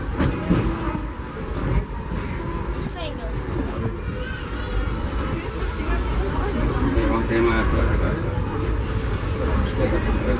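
The Disneyland Railroad's C.K. Holliday No. 1 steam train rolls steadily along the track, a constant rumble with faint rhythmic clatter, while a crowd murmurs and voices talk over it.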